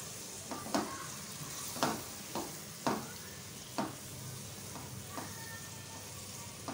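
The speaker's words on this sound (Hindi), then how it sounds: "अच्छी तरह से कीमे की भुनाई करें प्याज के साथ।" Mutton keema fries with onions in a pan, a faint steady sizzle broken by about half a dozen distinct scraping stirs at roughly one-second intervals.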